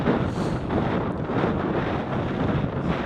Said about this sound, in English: But obviously being at the peak, it's even windier.